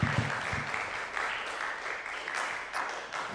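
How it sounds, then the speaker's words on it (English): A studio recital audience claps steadily for contestant number 1 at a Halloween-themed tuba event, a sustained, even patter of applause lasting a few seconds. "Let's have another round of applause for contestant number 1."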